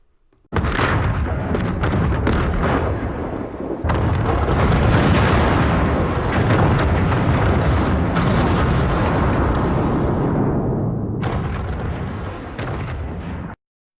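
The Lian-Yu island explosion from the Arrow season finale: a sustained roar of booming blasts and rumbling detonations, loud and dense, swelling with fresh bursts before cutting off abruptly.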